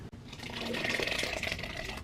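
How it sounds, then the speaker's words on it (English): Liquid pours steadily into choc banana muffin mix with oats in a bowl, a soft continuous splashing stream heard close and alone. "Pour that in."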